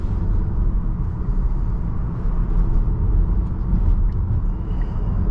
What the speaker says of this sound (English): Get this nice little propulsion sound.